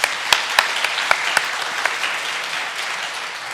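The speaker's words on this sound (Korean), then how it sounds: "주님 앞에 영광의 박수 올립니다." A church congregation at a summer revival meeting in Daejeon claps in praise. A few loud, close claps stand out early above a thick, continuous patter of many hands that carries on steadily to the end.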